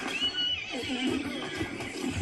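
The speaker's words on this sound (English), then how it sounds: "There's a bad horse right around the corner there." A horse in the Hunt: Showdown video game whinnies with a long, wavering neigh, fairly close and clear over low background game noise.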